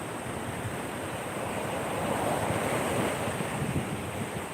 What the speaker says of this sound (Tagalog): Naandito tayo ngayon, Ate Bryce, sa tabi ng dagat.